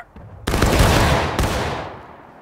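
Rifle volley fired on command in a video game: two loud, sharp gunfire bursts, the first a long rattling volley that rings out and decays, the second a shorter burst about a second later.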